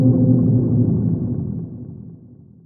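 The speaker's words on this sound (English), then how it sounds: "I've added a sea creature roar type sound in," A sea creature roar sound effect: a deep, loud, rumbling growl that starts at full strength and slowly fades away over a few seconds.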